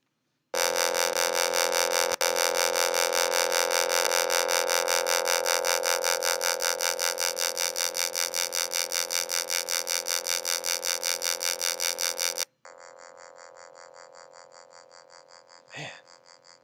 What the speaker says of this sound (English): So I'm going to play middle C on the phone.